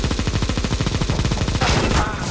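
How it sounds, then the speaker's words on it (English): Rapid gunfire in the Counter-Strike video game, a fast burst of close, loud shots firing in a steady stream for about a second and a half before tailing off. "I was shooting"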